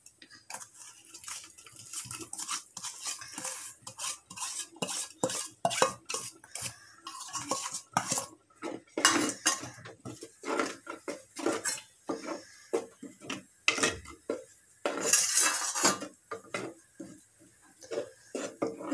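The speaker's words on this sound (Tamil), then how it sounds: "வெள்ளத்தை போட்டு நல்லா கிண்டணும், கட்டி இல்லாமல்." Jaggery being stirred into simmering moong dal payasam in a clay pot: a long run of spoon scrapes and clinks against the earthenware, steady and close, with no talk.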